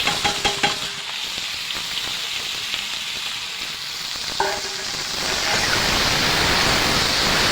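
Ridge gourd and ripe chillies drop into hot oil in a pan: a few clatters and stirring scrapes at first, then a loud, close, steadily swelling frying hiss.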